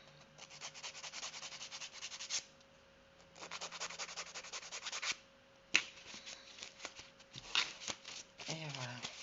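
Resin nails being filed with a nail file, close, rapid bursts of dry rasping strokes separated by short pauses, with a voice speaking briefly near the end.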